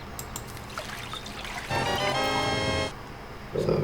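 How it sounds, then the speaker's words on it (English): Flowing water in the video game Haven and Hearth: a steady low trickle, swelling into a louder, fuller rush of running water for about a second before it drops back and picks up again near the end. No talking. "There's some water."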